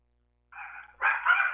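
A dog barking, two short yips heard faintly over a phone line, the second louder and longer, with silence before them.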